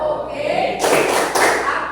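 A school class clapping a short rhythmic cheer, two bursts of hand claps mixed with dull thumps, loud and close.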